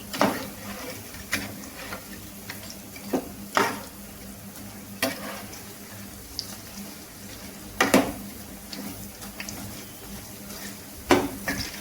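Ajwain bajji fritters frying in hot oil, a steady sizzle running throughout with repeated sharp clinks and scrapes of a utensil stirring the pan.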